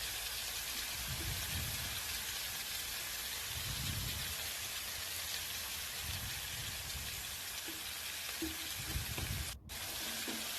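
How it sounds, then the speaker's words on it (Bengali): Ground spice paste fries in oil in a pan for Bengali chicken, a continuous soft hiss and sizzle with occasional low stirring scrapes, close and fairly quiet. "এখন এটাকে ভালো করে ভেজে নেব।"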